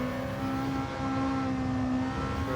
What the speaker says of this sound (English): Sounds absolutely stunning with that high revving Wankel engine.